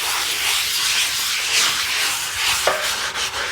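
Stained floor tiles being rubbed with a cleaning product in a circular motion, giving a steady, close scrubbing hiss with a brief sharper knock near the end.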